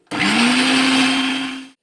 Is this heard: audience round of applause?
no